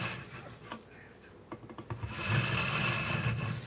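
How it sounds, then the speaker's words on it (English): A kitchen knife drawn across a ceramic sharpening stone, giving short scraping strokes followed by a louder, continuous gritty rasp, close to the listener, with no talking. "Now I am pulling the blade back at a slight angle instead of keeping it straight because the blade curves."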